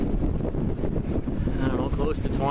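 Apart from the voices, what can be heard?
strong wind gusting while sailing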